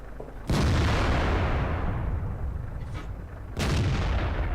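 Tank guns fire in World of Tanks on the El Halluf map, with a Hellcat in the fight. Two loud, booming shots ring out about three seconds apart, each trailing into a long rumbling decay.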